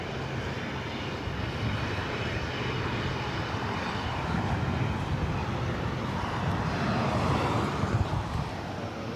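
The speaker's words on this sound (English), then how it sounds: "Delta Airlines Flight 1340 heading to Minneapolis in the 737-900 ER." A Delta Airlines Boeing 737-900ER departing Los Angeles airport produces a steady, broad jet engine roar that swells slightly toward the end, heard from a distance.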